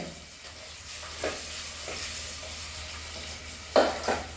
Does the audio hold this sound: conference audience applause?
no